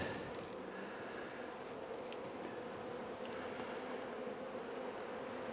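Honey bees droning inside an opened hive during queen rearing, a faint, steady close-up buzz with no voices.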